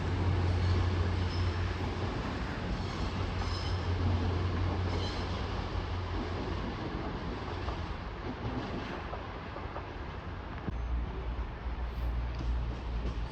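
Train at Sheffield station on the Midland Main Line: a steady, loud rumble of rolling stock, with low engine hum and faint wheel squeal echoing under the station roof.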